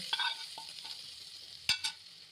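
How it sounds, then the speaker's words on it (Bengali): Mustard greens in a pan take a hot tempering of oil, garlic and hing. It gives a few sharp sizzling bursts and spatters, with a louder double crackle near the end over quiet frying. "ফোড়নটা এবার শাকের উপরে দিয়ে দিলাম"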